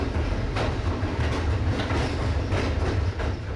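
A long-distance passenger train runs north along the Hudson River, its wheels and cars giving a steady loud rumble with rhythmic clickety-clack over the rails, continuous and close throughout.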